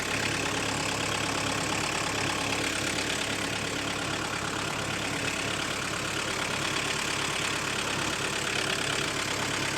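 A diesel VW MK2 Golf GTD engine idles steadily and close by with a constant mid-low drone and faint knocking tick, running continuously with no talk.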